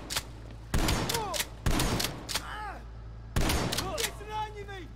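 Shotgun blasts in the video game Call of Duty Black Ops Cold War, three heavy booming shots spaced a second or two apart, each ringing out with a metallic tail and clattering debris.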